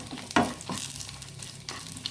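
Garlic cloves, about five, frying in oil in a pan for a Karavali-style salted jackfruit chutney, giving a steady close sizzle with a few louder stirring scrapes, no voices.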